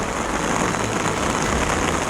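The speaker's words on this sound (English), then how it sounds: "It's raining so hard." Heavy rain pours down steadily at a solo campsite during a lightning storm, a dense unbroken hiss with no voices.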